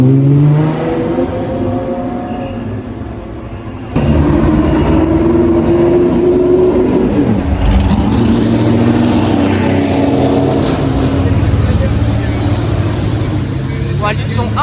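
Ferrari Daytona with a Colombo V12, straining as it moves off at the start of the Tour Auto in Paris, a loud continuous engine drone with rising revs, close by, with voices talking over it.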